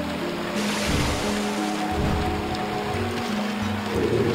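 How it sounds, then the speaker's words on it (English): Rushing water from a water spout ridden in the video game Okami, a steady surf-like wash with churning low tones and a layer of game music, continuous and fairly loud throughout. "Ride that water spout. Ride that water spout."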